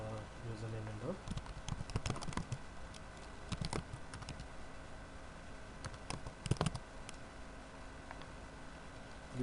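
Computer keyboard keys are tapped in quick, irregular bursts of soft clicks at close range during setup on a Windows 10 computer, with someone talking at the start.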